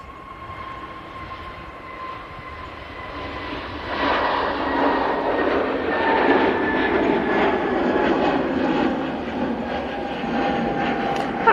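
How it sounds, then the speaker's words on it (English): An SAS airliner departs Manchester Airport for Oslo, its jet engines building into a loud, broad roar at takeoff power that rises around the four-second mark and then holds steady without any talk over it. "we do have a departure, and it is the SAS that's going back to Oslo"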